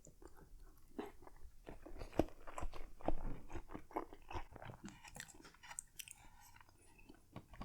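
Shrimp dim sum being chewed close to the microphone, a quiet run of moist crunches and bites in an irregular rhythm, with no talk.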